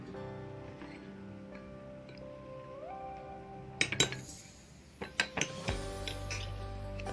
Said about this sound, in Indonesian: masukkan 3 sendok kopi secara bersamaan